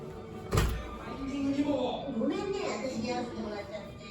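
A door to a soundproof room in a Japanese house opens with a single solid thunk near the start, followed by a steady wash of loud voices and television sound from inside the room.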